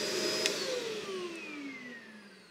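A Shark vacuum cleaner runs steadily with a high whine whose pitch slowly drops as it winds down, heard alone at moderate loudness.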